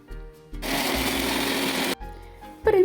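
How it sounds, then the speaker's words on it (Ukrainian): A blender chopping onions, apples and hot pepper whirs loudly for about a second and a half, motor roaring, with quieter machine hum before and after it stops. "Цибулю, яблука і гострий перець перебиваємо все у блендері"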